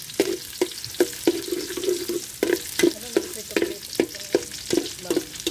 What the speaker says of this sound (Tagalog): Gisa-gisa mo na yan hanggang sa pumula.